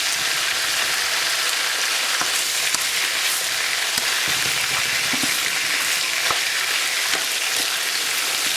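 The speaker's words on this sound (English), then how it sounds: "fry the onion along with the mutton pieces and brown the onions in them itself" Onions frying with mutton pieces in a pan for roasted mutton curry, a loud continuous close sizzle with occasional faint stirring clicks and no talking.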